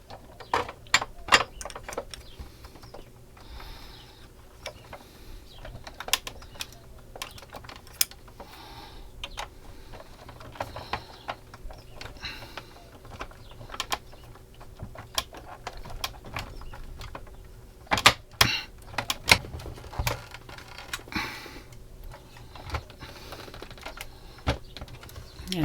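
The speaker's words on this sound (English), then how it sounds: "I'll put my 4 screws in" Small screws driven by hand into the rocker panel of a DeAgostini Ford GT scale model, heard as close, quiet clicks and scratchy ratcheting taps in irregular bursts, with no talking.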